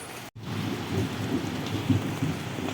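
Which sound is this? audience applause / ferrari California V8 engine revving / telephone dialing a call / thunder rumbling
thunder rumbling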